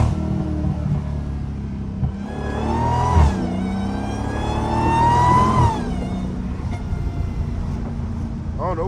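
A straight-piped Dodge Hellcat revs through two long rising pulls with a rough, loud exhaust, heard close from inside the car, with some chatter in the background.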